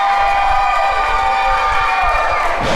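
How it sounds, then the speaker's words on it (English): A wrestling show crowd of about 200 cheers and shouts steadily, with excited voices and whoops filling the room for the full stretch at a constant, loud level. "It's the crowd of 200."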